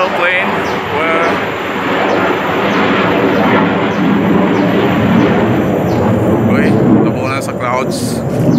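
Airplane passing overhead above a forest trail in a wetland reserve, a broad, loud roar that holds steady throughout, with faint voices and light background noise mixed in.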